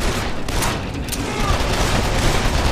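Dense, continuous gunfire from Call of Juarez: The Cartel fills a fight at an LA hideout, a steady loud clatter of shots with no clear gaps and no talking.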